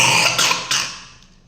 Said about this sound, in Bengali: আমার মেয়ের কেমন কাশি হয়েছে বুঝতে পারছো তো